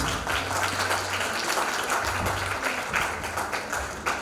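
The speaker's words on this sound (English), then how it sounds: "a loud round of applause for our VIP guests over here tonight" Audience applause for VIP guests at a women's award night, a steady dense wash of clapping throughout with a low hum underneath.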